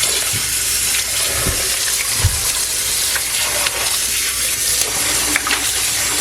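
Steady running tap water splashing into a sink, with intermittent sloshing and knocks as caraille (bitter melon) is rinsed under the stream.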